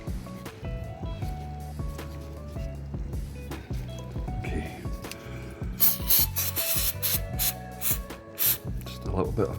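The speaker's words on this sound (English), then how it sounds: "A little bit of brake cleaner," Brake cleaner sprayed from an aerosol can onto a car's oil drain bolt during an oil change, in several short loud hissing bursts near the end, after a stretch of background humming and someone talking.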